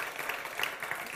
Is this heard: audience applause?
yes